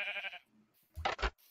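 Sheep in the video game Minecraft bleating twice in quick succession, two short bursts that stand out loud and close after a quieter stretch with a brief voice at the start.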